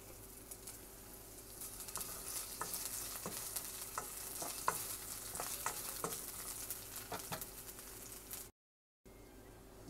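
Garlic and ginger fry in oil for a Filipino shrimp and tomato sauté, crackling softly with scattered pops and stirring taps, then a brief dropout of silence near the end.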